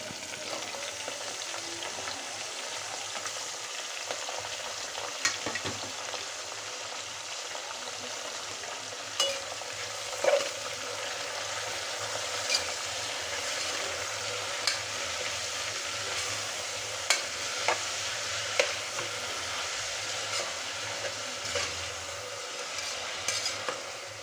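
Diced potato and spinach stirred in a hot frying pan for a Telugu spinach khichdi, with a steady broadband sizzle and occasional light scrapes and clicks of a spoon against the pan, with no talking.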